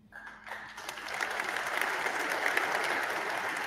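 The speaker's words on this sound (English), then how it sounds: "Talk about deregulation, everybody claps again." Applause fills the Argentine Congress during Javier Milei's speech to Congress, swelling from a few claps into sustained, dense clapping from a large crowd, heard from a distance.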